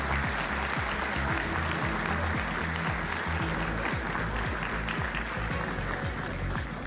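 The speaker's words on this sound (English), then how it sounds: "Round of applause, ladies and gents." Audience applause for pool champion Joshua Filler after the European Open Pool Championship final, a steady, dense wash of clapping that holds at full level throughout with faint voices mixed in.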